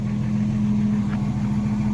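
A Jeep Cherokee XJ engine idles steadily up close, a low even hum with a faint rhythmic pulse. The engine sounds like it needs thicker oil, and it runs alone without any voices.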